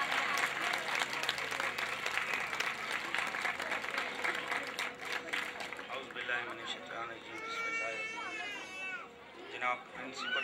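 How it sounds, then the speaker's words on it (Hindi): A crowd at a government school's 2009 annual program claps in dense, sustained applause, then it thins out as voices and a speaker take over. "तालियां तब तक बजनी चाहिए जब तक वो यहाँ नहीं आ जाते।"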